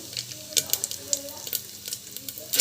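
Mustard seeds, cumin and chana dal crackle and sizzle in hot oil, a close, steady frying hiss broken by frequent sharp pops and spits.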